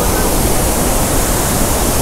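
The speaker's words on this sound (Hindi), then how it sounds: "यहाँ पे वाटरफॉल का जो साउंड आ रहा है बहुत ही मस्त आ रहा है" Steady broadband roar of a waterfall at the Netarhat hill station in rain, dense and continuous with no breaks, loud and close, and no voices over it.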